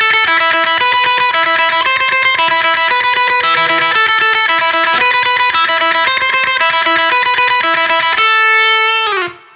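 Fast alternate picking on a distorted electric guitar fires off a rapid, even stream of repeated notes that climb and fall in short patterns, loud and close, ending on one held ringing note that cuts off.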